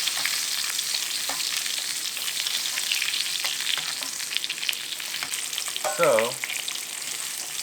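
Steak basting in a hot pan gives a steady, close frying sizzle with a dense, even hiss throughout and a few faint clinks, rising in a brief louder burst near the end.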